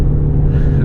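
A Shelby GT350 Mustang engine revs in a brief, loud, close burst with a deep, rumbling tone.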